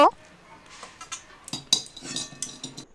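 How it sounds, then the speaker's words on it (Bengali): Banana flower curry with garam masala being stirred in a pan, with intermittent metallic clinks and scrapes of a spoon against the pan, close and moderately loud, with quiet gaps between strokes. "নেড়ে নেব"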